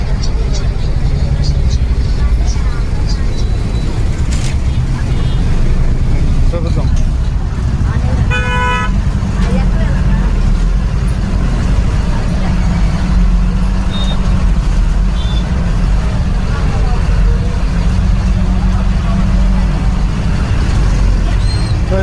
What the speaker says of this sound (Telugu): కొత్తూరు లంక బస్సు బయలుదేరింది